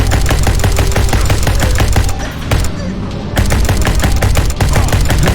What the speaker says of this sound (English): Let's try the other gun, an assault rifle.